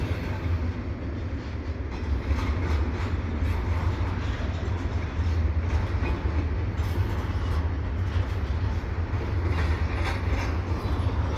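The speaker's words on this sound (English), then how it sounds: "And here, even on a Sunday evening, you can get some good freight train action." An eastbound CPKC intermodal freight train rolls past on an evening, a loud continuous low rumble and grinding of wheels with faint rhythmic clatter throughout.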